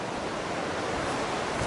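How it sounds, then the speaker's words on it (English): Ocean surf rolls in continuously beside a scenic coastal campground at an RV park, a steady broadband wash with some wind noise on the microphone. "Listen to that ocean."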